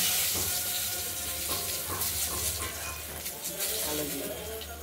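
Dry red chillies and bay leaves tempering in hot oil for a fish curry, making a dense, continuous crackling sizzle with small pops running throughout, close and fairly loud.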